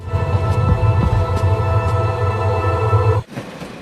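Steady rumble and hum of a train carriage with a rhythmic low clatter, continuous and fairly loud, cutting off abruptly near the end.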